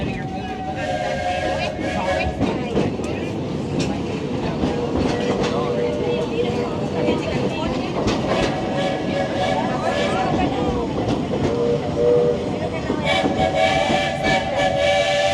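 A Walt Disney World Railroad train rumbles along the tracks with a steady rattling clatter, and sustained whistle-like tones ring out over the constant roar.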